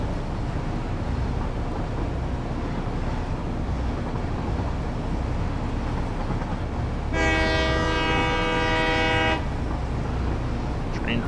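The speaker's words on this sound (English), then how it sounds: "Train horn. It's functioning nominally, by the sounds of it." A train horn from the video game Satisfactory sounds one sustained, harmonically rich blast of about two seconds over a constant rumbling rail background.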